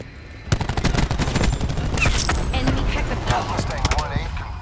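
Aircraft gun run in a video game, a loud sustained stream of rapid gunfire with dense rattling bursts, overlapping effects and voices talking underneath.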